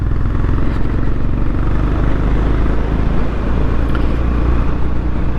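A Honda GB 350 S motorcycle rides gently along greasy country back lanes, its engine a loud, continuous low rumble blended with heavy wind buffeting, close up and with no voices.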